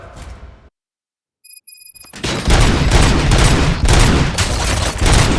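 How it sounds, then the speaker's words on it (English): Gunfire in the RoboCop Rogue City video game: a brief silence with a few electronic tones, then a sustained loud burst of rapid shots and heavy impacts that fills the rest of the clip. "Gunshots? What's going on?"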